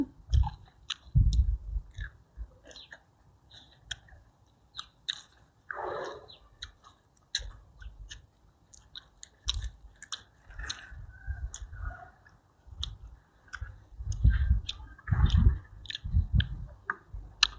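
Someone eats a spicy pounded papaya salad with fermented fish sauce, Vietnamese pork sausage and fresh rice noodles, with close, wet, irregular chewing and smacking, occasional clicks and squishes, and no talk.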